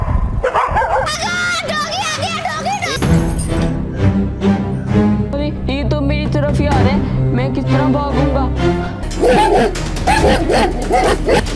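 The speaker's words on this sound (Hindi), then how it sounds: "अरे ये तो कुत्तों की आवाज है।" Dogs bark, yip and whimper in a cartoon scene, short cries over continuous music, with voices talking at times.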